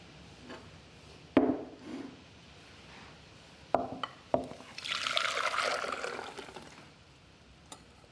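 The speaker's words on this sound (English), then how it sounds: "I'm going to pour it back in the pot and cook it until it comes to a boil" Whisked custard mixture poured from a bowl back into a pot on the stove: a few sharp knocks of utensils against the vessel, then a thick, steady pouring wash lasting about two seconds before it trails off, close by with no talking.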